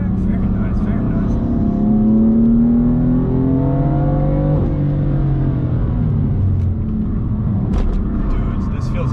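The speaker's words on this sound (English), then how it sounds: "You can hear quite a bit of tire noise because fresh pavement" Steady road and tire roar from inside a moving BMW M4 on fresh racetrack pavement, with engine tones rising and falling as it accelerates; no clear talk over it.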